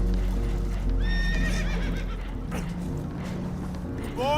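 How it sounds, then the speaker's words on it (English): Spooked horses neighing and whinnying in the video game Red Dead Redemption II, loud shrill cries rising over steady hoof clip-clop and a rumbling low background. "Horses are spooked"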